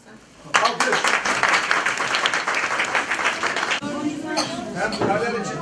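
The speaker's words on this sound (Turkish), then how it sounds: "Alkış." Loud applause from a crowd at a school report-card day event in Malatya, steady dense clapping that continues throughout with chatter mixed in.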